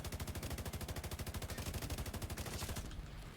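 Rapid automatic gunfire in The Division 2, a long unbroken burst of evenly spaced loud shots that cuts off sharply near the end.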